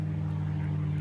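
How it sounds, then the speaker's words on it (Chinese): A propeller airplane drones overhead beneath a rainy Jiangnan sky, a steady, even engine hum holding at constant loudness throughout without any voices. "那是咱们的飞机吗？"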